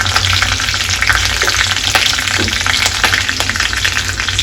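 Curry leaves, mustard seeds and cumin sizzle steadily in hot oil after peanuts, a loud, dense crackle with scattered sharp pops throughout.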